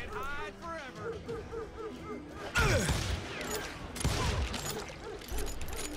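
Gunfire in Call of Juarez, a Western shooter, comes in two loud bursts of shots with booming reports, set against a busy game soundscape and someone talking.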